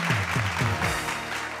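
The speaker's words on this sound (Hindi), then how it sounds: "जोरदार तालियां मारो वाला" Audience clapping on a Bhojpuri TV game show, steady applause running throughout while a low voice or musical tones pulse briefly underneath in the first second.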